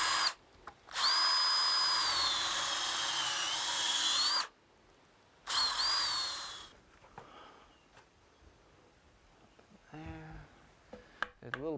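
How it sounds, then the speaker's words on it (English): A power drill whines loudly into a wooden log mantle, boring a 3/8-inch hole in two bursts, a long run and then a shorter one, followed by quiet handling noises. "Now we're going to drill it out to a 3/8"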